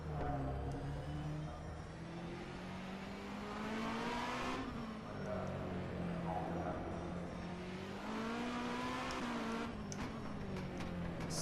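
V8 Supercar engine in the rFactor 2 racing sim, a continuous near engine note that rises and falls through gear changes and throttle lifts, with brief clicks and knocks near the end.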